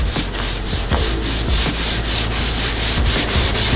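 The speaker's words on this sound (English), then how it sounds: "Try to hold it nice and flat, and you want to crisscross your sanding." Body filler on a car panel is hand sanded with 180 grit sandpaper in steady back-and-forth strokes, about four per second, producing a close, loud, even rasp with no talking.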